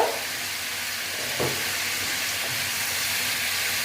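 Spices sautéing in a pan for a vegetarian drumstick curry give a steady, close sizzle with a couple of soft stirring scrapes, and no one speaks over it.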